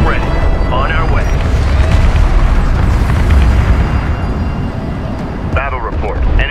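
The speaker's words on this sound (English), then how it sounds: "Battle report. Enemy cruiser destroyed." A large explosion as an enemy cruiser is destroyed in the space strategy game Homeworld Remastered, a loud sustained rumbling blast under game music and effects, with radio-style voice chatter near the start and end.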